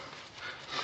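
A small stray dog panting steadily and breathily at close range, a soft continuous rasp with slight swells in loudness, heard alone without talk.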